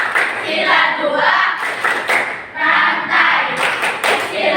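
Schoolchildren in a classroom clap the rhythmic Tepuk Sila Pancasila chant, with loud close bursts of claps in patterned groups broken by short pauses, mixed with their chanting voices.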